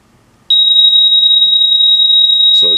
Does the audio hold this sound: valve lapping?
no